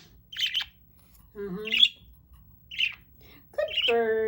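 A budgie gives several short chirps and squawky calls in scattered bursts, close by, with a voice-like warble near the end and a low background hum.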